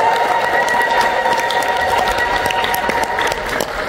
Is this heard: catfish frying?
no